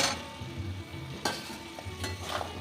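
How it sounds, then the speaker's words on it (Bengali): Potatoes fried earlier and diced bottle gourd go into a hot pan with spices, for a prawn and gourd curry. A soft steady sizzle runs throughout, broken by a few sharp clatters of stirring, with no talking. "এবার আমি দিয়ে দিচ্ছি ভেজে রাখা আলু আর ডুমু ডুমু করে কেটে নেওয়া লাউ।"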